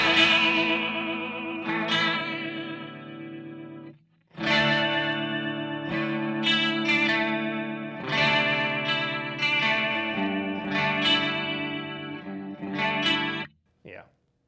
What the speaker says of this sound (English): I think it's a combination of the rotary and the chorus